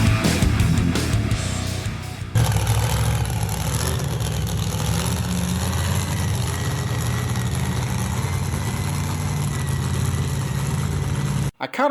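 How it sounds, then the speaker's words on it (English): A big tractor pull dragster engine runs at a car show in Farmersville, Texas, giving a loud, steady low rumble with crowd noise around it before it cuts off sharply near the end. "Great big tractor pull dragster"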